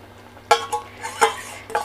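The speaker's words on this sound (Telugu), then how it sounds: "ఇప్పుడు ఇది మనం చింతపండు గుజ్జు తీసుకున్నాం కదా, వేసేసుకుందాము." Tamarind pulp being added to tomato chutney in a pan, a few sharp clinks and scrapes of a utensil against the pan, spaced irregularly, close and clear over a quiet hum.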